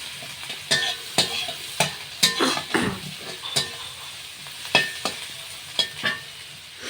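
Panch phoron spices sizzle steadily in hot frying oil for a potato curry. Sharp clinks from a utensil stirring against the pan punctuate the sound at irregular moments, up close and fairly loud.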